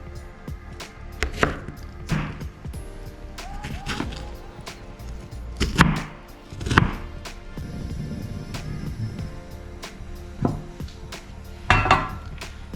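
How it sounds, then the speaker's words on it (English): Knife rough-chopping fresh strawberries on a cutting board for homemade jam, with irregular sharp thuds and taps coming in scattered clusters, close and clear, and brief clinks of utensils between the cuts. "Just rough chop it in this way and do the same to the remaining strawberries"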